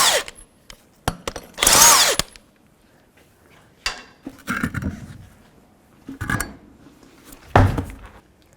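Power tool bursts, an impact gun or drill, spinning off the lug nuts to remove a tire on a 1997-2001 Jeep Cherokee, several loud short whirring blasts separated by pauses and clanks of tools.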